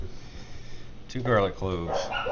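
Several dogs bark and yip excitedly in a home kitchen during cooking, short bursts of fairly close barking layered under a person speaking.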